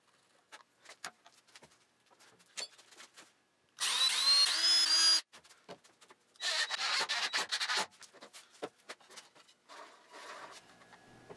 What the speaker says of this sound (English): now I can fasten a Lazy Susan to the inside of the trolley